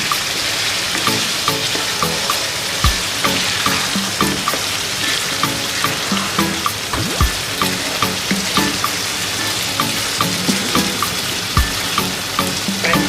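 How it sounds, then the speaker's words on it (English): Pancetta sizzles loudly in a pan for an Italian ragù while it is stirred, with a continuous crackling fry and regular scraping strokes of the utensil, very close, with no talking. "Stir everything together."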